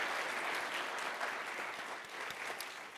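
Audience applause at a tech startup conference, a dense, steady wash of clapping throughout, fairly loud and continuous with no talk.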